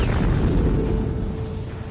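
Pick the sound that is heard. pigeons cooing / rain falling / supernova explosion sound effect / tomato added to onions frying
supernova explosion sound effect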